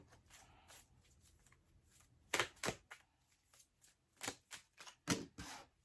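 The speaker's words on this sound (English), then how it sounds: "All right, I'm going to shuffle these in separately." Tarot cards are shuffled by hand at close range, heard alone: soft riffling bursts and sharp flicking snaps that come in irregular clusters, growing louder in the second half.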